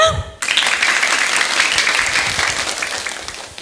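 Applause from children and teachers at a primary school live storytelling session, a steady burst of clapping that starts sharply after a brief sung phrase and carries on through the clip at a fairly loud, even level.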